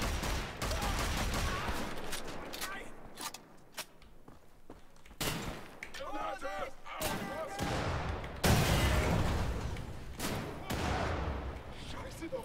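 Rapid in-game gunfire from Wolfenstein: The Old Blood, dense volleys of sharp shots and bursts running continuously and loudly, with occasional thuds between them.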